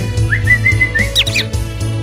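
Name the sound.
bird chirping in the Wii game Santa Claus Is Comin' To Town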